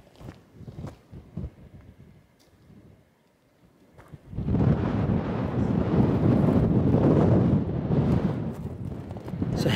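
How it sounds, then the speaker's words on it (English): Strong wind on a South Australian hilltop, starting with light gusts and faint rustling and then rising into loud, continuous roaring buffeting against the microphone. "It's so windy. So windy up here."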